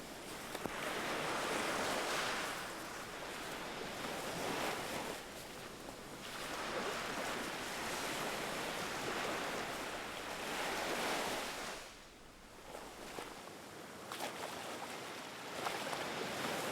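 Ocean surf rolling onto a sea turtle nesting beach, broad continuous wash of breaking waves swelling and easing in slow cycles, with some wind across the microphone.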